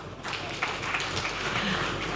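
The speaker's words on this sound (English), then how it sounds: "So can you please clap for me?" A crowd applauds at a Ugandan government brand unveiling event, a broad, even rush of many hands clapping that swells in after a brief quieter start and holds steady, somewhat distant and without talk.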